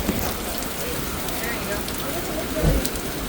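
Heavy rain pours down during a thunderstorm in Manhattan's Chinatown, a steady dense hiss of drops on pavement with a brief louder thump near the end.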